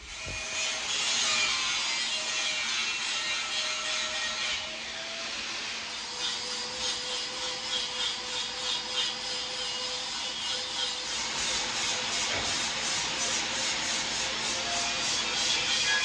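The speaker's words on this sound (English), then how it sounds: "Take a flap disc to get all the paint off and get myself a nice blank slate to work with" A flap disc on a grinder strips paint from a steel propane tank being turned into a sword forge. It makes a loud, steady, harsh grinding roar with a faint whine, holding almost unbroken for about sixteen seconds with no talking.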